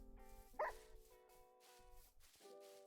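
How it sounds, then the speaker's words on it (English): A pet dog makes a short bark and whimpering noises close to the microphone, one brief burst standing out over a steady tonal background. "My own dog just making noises in my ear."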